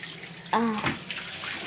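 Tap water pours into a tumbler in a home kitchen, starting abruptly as a steady close gush with a rising tone as the container fills, no talking over it.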